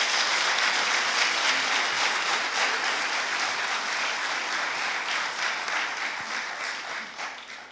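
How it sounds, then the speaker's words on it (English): Loud applause and cheering from a crowd filling the hall at a Winchester spring special town meeting: a dense, steady wash of clapping that eases slightly toward the end. "Cheering and music."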